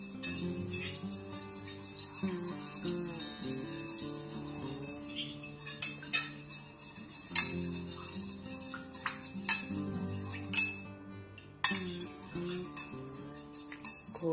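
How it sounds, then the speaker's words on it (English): Light clinking as black dye is stirred into candle wax in a container, repeated soft taps and scrapes at an irregular pace over quiet background music. "Let's just stir that well."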